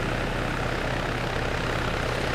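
A helicopter in Arma 3 Antistasi, a constant loud whirring engine and rotor drone filling the whole stretch with no breaks or talk.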